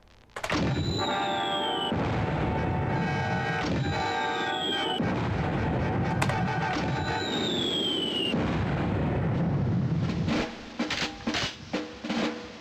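Mortar rounds fire in the Army Men video game, with repeated launches followed by descending whistles and booming blasts over a rumbling battlefield din, ending in a few scattered softer thumps.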